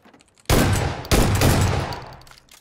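A grenade explosion in a multiplayer shooter video game: two loud, broadband blasts in quick succession, each decaying slowly into a rumbling tail.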